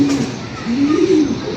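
A pigeon gives a low, rolling coo close by, with a voice talking over it.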